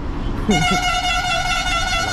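A loud, steady vehicle horn blares on a highway near Igatpuri during a road trip, starting about half a second in and held unbroken to the end over a low rumble of road noise.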